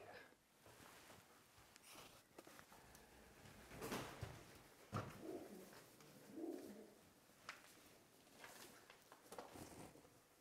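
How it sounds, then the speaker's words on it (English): Pigeons coo softly inside an abandoned, crumbling morgue building, with several low murmuring calls spread across the clip amid faint rustles and quiet room ambience. "There's a lot of pigeon noise, guys. A lot of pigeon noise."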